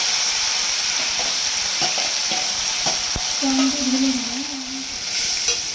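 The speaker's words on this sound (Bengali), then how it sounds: "হ্যাঁ, এবার পেঁয়াজ, লঙ্কা, টমেটো সব একসাথে বাটা নিয়ে গরম তেলে দিয়ে দিয়েছে।" A paste of onion, chili and tomato fries in hot oil, a loud close sizzle with repeated scraping stirs, and a brief wavering tone partway through.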